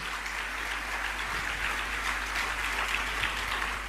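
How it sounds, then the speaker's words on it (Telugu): A church congregation claps loudly and steadily in praise, a dense continuous wash of many hands over a low background hum. "చప్పట్లు గట్టి కొడితే దేవుని స్తుతిద్దాం."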